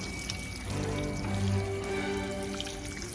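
Water pouring from a watering can onto garden nasturtiums, giving them a good soaking; a steady splashing pour swells in the middle and then eases off, with no talking.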